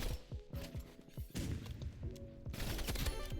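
Gunfire bursts in the video game Rivals come as quick mechanical clatters and rattling shots over a busy game backdrop, fairly faint and spread across a few seconds.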